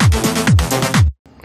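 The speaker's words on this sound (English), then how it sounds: "I just modified the percussion a bit so it fits the loop" A modified percussion loop in a beat plays as two loud, quick patterns of punchy hits with falling low thumps, then cuts off abruptly into near silence and a faint tail.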